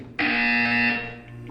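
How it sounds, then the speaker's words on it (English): A single loud, harsh electronic buzzer from the video game Portal 2 blares for about a second, then tapers off. "When you hear the buzzer, look up at the ceiling."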